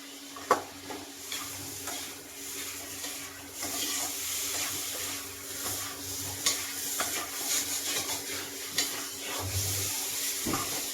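Curry is sautéed (koshano) in a pan, producing a soft continuous sizzle with repeated scraping stirs and occasional sharp knocks of the utensil against the pan, no speech.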